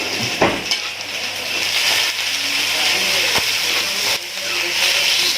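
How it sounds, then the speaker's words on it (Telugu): Cabbage fries in a hot pan, a loud steady sizzle with occasional scraping and clanks as it is stirred, close up the whole time. "ఫస్ట్ కొంచెం క్యాబేజ్ ఫ్రై అవునిద్దాం ఒక 2 minutes"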